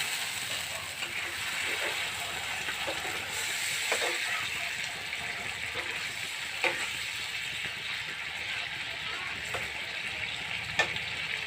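Spice paste in a pan, already fried, hissing and sizzling steadily after water is poured in, with occasional stirring clicks and scrapes throughout.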